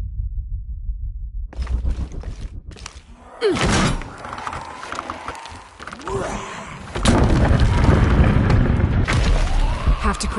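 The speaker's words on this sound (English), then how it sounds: "Have to create an explosion." A booming explosion from the video game Shadow of the Tomb Raider, a deep thud that erupts mid-clip, followed by rumbling debris and a louder, sustained roar of blast and game ambience toward the end.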